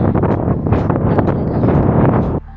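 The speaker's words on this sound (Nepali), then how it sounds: "हावा लाग्छ" Loud, rough wind buffeting the microphone, a steady roaring rush that cuts off abruptly near the end.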